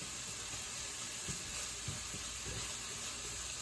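Onions and celery cook in a single pan for sausage stuffing, giving a low, steady sizzle with faint soft stirring scrapes, quiet and close, with no talking.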